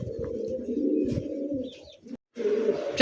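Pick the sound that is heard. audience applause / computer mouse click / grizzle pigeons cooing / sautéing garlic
grizzle pigeons cooing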